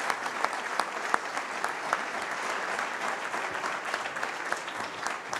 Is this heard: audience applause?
yes